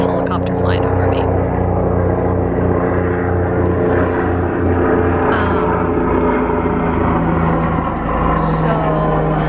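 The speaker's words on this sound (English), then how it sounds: "there's a helicopter flying over me" A steady, loud engine drone with a low rotor hum passing overhead, continuous throughout with a faint voice underneath.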